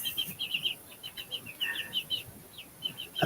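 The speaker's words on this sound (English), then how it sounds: "I think this a rooster." Bantam chickens of mixed breed with heavily feathered feet, a rooster among them, give repeated short high chirps and clucks in quick bursts, fairly close and moderately loud over a low outdoor rumble, with no talking.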